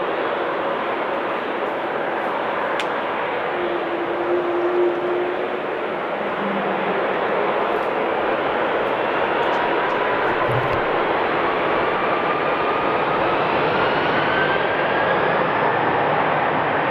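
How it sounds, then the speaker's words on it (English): Delta Airbus A330 taking off from Amsterdam Schiphol Airport: a continuous, steady broadband engine roar that slowly builds, loud and sustained throughout with no talk. "And the A330 is going to Boston."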